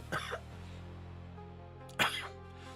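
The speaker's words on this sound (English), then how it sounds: "now the cough is just wreaking havoc on me" Two sharp, close coughs from one person, the first just after the start and the second about two seconds later, each a brief harsh burst over a quiet low hum.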